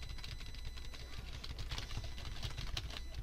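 Computer keyboard keys clatter in quick, irregular bursts while someone plays the fighting game Sonic Fighters MUGEN. The clicks are faint and close, with no one speaking.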